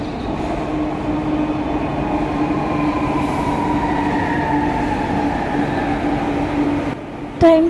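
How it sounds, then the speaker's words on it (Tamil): A Chennai metro train runs in a steady, loud rumble with a sustained motor whine and rail noise throughout, ending in a brief louder rattle near the close. "ட்ரெயின் பாருங்க, முன்பக்கம் வருதா."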